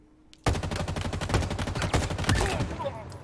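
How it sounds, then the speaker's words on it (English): An assault rifle fires in repeated bursts in a video game, sharp rapid shots clustered in quick groups at close range, with faint background game sound. "Now we'll do the exact same thing using burst fire instead"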